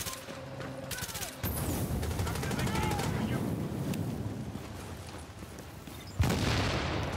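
Rapid automatic gunfire bursts from The Division video game, dense and continuous after a brief opening, with a sharp burst near the end and a voice talking over the shooting.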